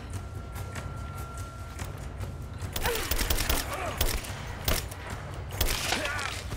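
Gunfire rings out in the video game Rise of the Tomb Raider during a prison escape: a quiet stretch, then a burst of sharp, rapid shots and thuds over the last few seconds.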